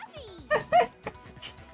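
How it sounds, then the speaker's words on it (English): A puppy whimpers and lets out a few short, high yips in quick bursts, close by and fairly soft, with a voice-like murmur mixed in. "Puppy!"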